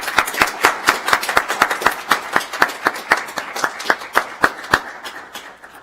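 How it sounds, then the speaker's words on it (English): A few people clap sparsely for new citizens at a US District Court naturalization ceremony, the claps distinct and irregularly spaced, close and fairly loud, thinning out toward the end. "Give yourself a round of applause."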